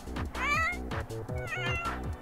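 Sick kitten Cashew in The Sims 4 gives a run of plaintive, wavering meows that rise and fall. They are steady and close, and pulsing game music plays underneath.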